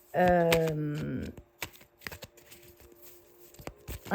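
Tarot cards being shuffled quickly by hand, with a brief voice at the start, then repeated close riffling and soft slaps of the deck.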